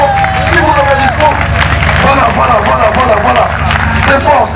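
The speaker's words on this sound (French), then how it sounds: "sous vos applaudissements s'il vous plaît" Loud crowd applause and cheering for a comedian at a customary wedding, dense continuous clapping up close, mixed with voices and shouts throughout.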